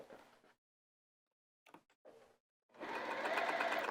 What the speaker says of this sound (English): I'm going to baste all around that outer edge.